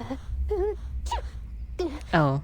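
A character in the Reverse: 1999 video game sneezes near the end, a sharp voiced burst following brief exclamations and gasps over a low background hum.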